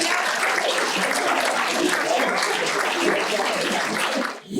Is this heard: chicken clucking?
no